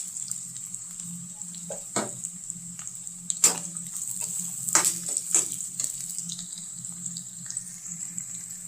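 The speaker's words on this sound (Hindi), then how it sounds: "इसके अंदर हम 1 चम्मच जीरा डाल लेते हैं।" Cumin seeds sizzling with onions in ghee in a kadhai, a steady soft crackle with a few sharper pops and utensil clicks, close but fairly quiet over a low hum.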